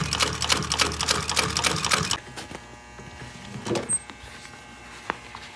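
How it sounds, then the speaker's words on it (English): Sewing machine stitching pontoon boat seat upholstery runs in a fast, dense burst for about two seconds, then stops, leaving quiet room sounds with a few faint clicks and a soft thump. "now we can sew on the small blue side"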